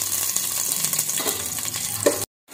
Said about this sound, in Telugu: ఇప్పుడు మనం కుష్కాలకు వేసుకునే మసాలాలు వేసుకొని కొద్దిగా వేయించుకోవాలి.